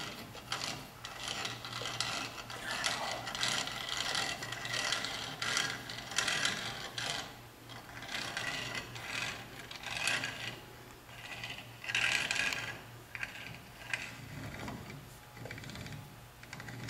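A torque wrench ratchets in repeated clicking bursts while tightening a bolt on a Sterling 10.5 axle from a Ford F-250/F-350, close and fairly quiet, with a low steady hum underneath.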